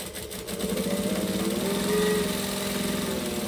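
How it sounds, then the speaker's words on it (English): A sewing machine runs a long decorative topstitch along a fabric edge at a size 4 stitch length, giving a steady close motor whir with a rapid needle rhythm that holds for several seconds without pause. "I'm just going to top stitch along"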